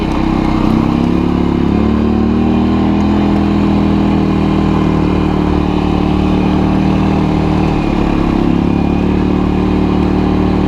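A Kazuma Jaguar 500 4x4 ATV engine drones steadily at speed, close and loud, holding a constant mid-pitched note while cruising near 30 with no talk.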